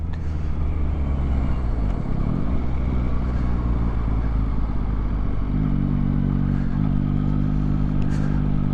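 A 2021 Yamaha MT-09 SP motorcycle runs on its stock exhaust with a loud, close, continuous engine rumble, its pitch dipping and rising briefly as the throttle is blipped.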